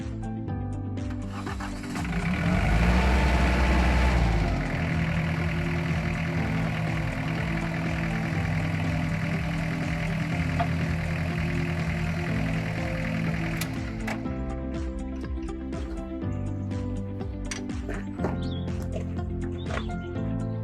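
A tractor engine idles and runs steadily to power the hydraulics of a Vredo Super Compact over seeder, a continuous mid-pitched mechanical drone with a brief louder surge near the start, heard alone without talk.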